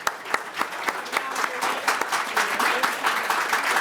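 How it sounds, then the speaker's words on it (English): An audience applauds at the close of a panel event on female founders, a close, full burst of clapping with distinct sharp claps punctuating a steady wash, swelling slightly toward the end. "Wait for the applause."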